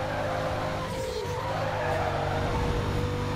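Tires squeal and skid as a super car takes a curve in Need for Speed, a sustained screech over a steady engine drone with no voices.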